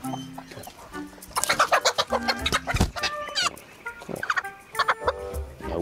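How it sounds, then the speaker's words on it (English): A pet hen clucks repeatedly in loud, close, choppy bursts, with throaty calls rising and falling and little else around it. "what has happened to my chicken?"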